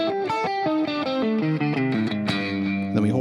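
Electric guitar with distortion plays a quick descending minor pentatonic lick with a flat fifth, the notes close, loud and evenly spaced with no talking.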